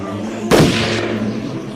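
A single loud gunshot sound effect in a Spanish zombie audio drama bursts out sharply and then decays with a long rumbling tail over a steady background tone.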